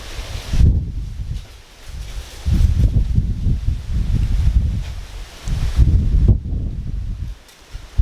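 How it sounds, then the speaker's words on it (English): Strong wind buffets the microphone in loud, rumbling gusts that rise and fall, with rustling underneath. "Super windy."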